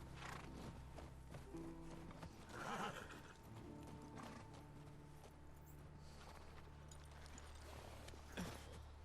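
A horse in the video game The Last of Us Part 2 whinnies and clip-clops at close range, with a steady hoof rhythm over low ambient game noise and several louder snorting bursts.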